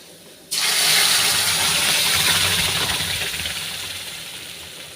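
Liquid pours steadily into a pot for fish curry on the stove, a sudden loud continuous rushing splash that starts abruptly and slowly eases off, with no speech.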